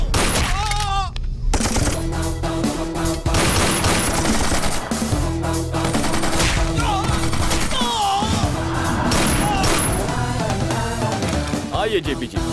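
Gunfire in an action movie fight scene, bursts of shots and crashes mixed under a dense dramatic music score with tonal swells, loud and continuous throughout.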